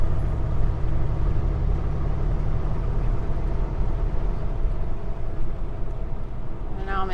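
A heavy truck engine labouring up a steep hill in 10th gear, a steady loud low drone and rumble that holds throughout, with a brief higher rattle near the end.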